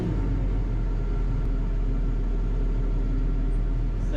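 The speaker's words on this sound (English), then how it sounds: "Spin the bed around for him again, make life easy on him." A tracked truck's engine rumbling steadily while its bed is spun around, a constant low, loud drone with no change in pace and no voices.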